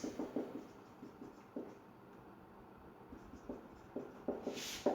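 Writing on a board during a physics lesson on electric flux: faint, close tapping and scratching strokes in short irregular clusters, with quiet pauses between them and no talk.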